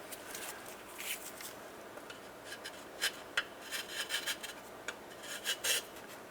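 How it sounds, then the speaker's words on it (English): A carbide scraper rasping across the starter mating surface on a 2000-2006 Toyota Tundra, with quiet, irregular scratchy strokes that pick up into sharper bursts toward the end, close by and with no talking. "carbide scraper or light abrasive, go through and clean the mating surface"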